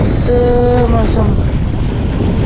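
Loud wind buffets the microphone aboard a fishing boat in bad weather while rough sea waves surge around it, with a brief tonal whine mixed into the constant roar.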